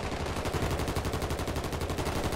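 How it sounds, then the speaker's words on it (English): Sustained, rapid automatic gunfire in the video game Call of Duty MW3 Warzone, a loud, continuous rattling barrage of closely spaced shots with no pause, heard up close. "They are shooting up above."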